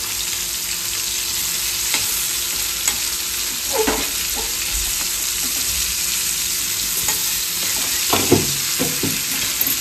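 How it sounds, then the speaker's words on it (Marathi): Food frying in a pan at home, a loud steady sizzle close up with occasional spatters and stirring clatters, no talking. "चला आता मस्त याची आता हिला फ्राय करून घेऊ आपण."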